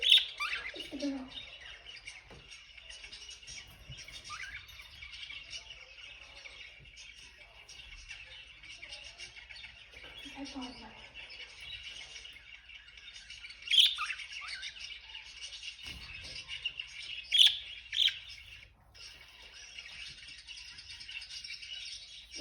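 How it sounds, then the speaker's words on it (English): Pet birds chirp and squawk intermittently while faint music plays to coax their calls. The sharp, quiet chirps are scattered across a long, mostly hushed stretch, with a few louder squawks standing out. "we're playing this music to get them to tweet or like chirping, and they started to chirp."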